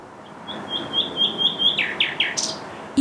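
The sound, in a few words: nightingale singing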